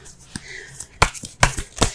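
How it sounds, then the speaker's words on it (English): Tarot cards handled and pulled from a deck at close range, several sharp papery flicks and snaps in quick succession with quieter rustling between them. "let's go ahead and pull some cards here"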